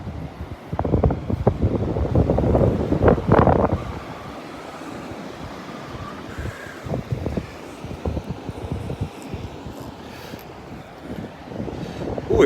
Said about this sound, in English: The waves are getting bigger and it's getting windier.